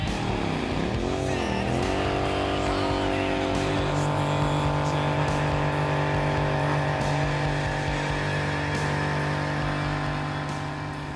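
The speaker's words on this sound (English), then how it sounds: "I'm going to take my Harley up and burn the tire off" A 2003 Harley-Davidson motorcycle doing a tire burnout roars loudly and continuously at high revs, with a dense, sustained engine drone throughout and no talking.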